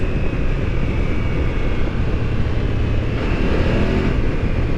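A 2024 BMW F900GS motorcycle engine revving hard on an enduro test ride, a loud, continuous high-revving roar mixed with wind rush that holds steady throughout.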